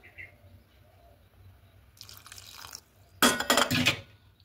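A little water poured over ginger and green chili paste: a short trickle, then a louder, brighter splash near the end, with quiet kitchen background between.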